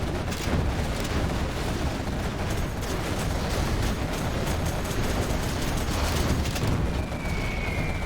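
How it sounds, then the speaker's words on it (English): Carpet bomb explosions in the Command & Conquer Generals video game on the Canyon of the Dead map, a steady rolling barrage of rumbling booms and crackling blasts at moderate level, no voices. "Carpet bomb comes in, misses the target a hell of a lot though."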